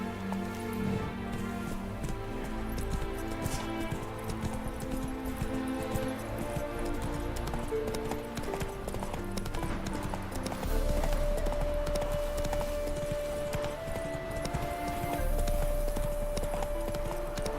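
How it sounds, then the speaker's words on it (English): A horse gallops in the Witcher 3 video game, its steady rhythmic hoofbeats running throughout under a dense layer of rain and ambient game sound, with a faint neigh in the mix. "Come on, Roach"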